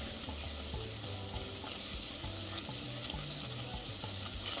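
A stick of butter and a cup of flour whisked fast in a pan on the stove into a roux, giving a continuous soft sizzle with brisk stirring, faint and close, with steady low tones underneath.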